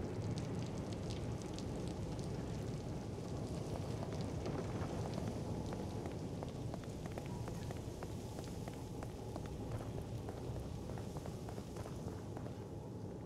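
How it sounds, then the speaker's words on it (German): Rain falls steadily in the horror video game The Evil Within, a dense, continuous patter with soft wind and occasional footstep-like thuds mixed in. The level is fairly quiet. "Wieso regnet das jetzt?"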